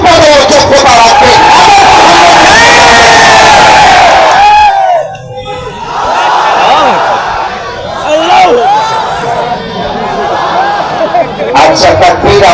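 A large rally crowd roars a chant of takbir, loud and massed for the first few seconds, then a short lull before more shouting voices swell back in.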